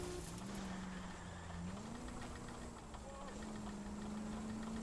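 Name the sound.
car engine in video game L.A. Noire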